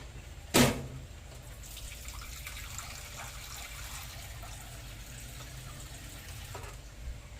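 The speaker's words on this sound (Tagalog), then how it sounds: "Tapos magdagdag lang ako ng kunting tubig." Water is poured into a pot of vegetables while cooking pakbet, a soft, continuous liquid trickle running for several seconds after a sharp knock at the start, heard up close with no talking.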